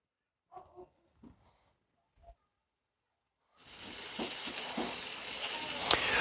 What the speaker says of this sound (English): Once we get a sear on the pork, we'll go ahead and add the vegetables.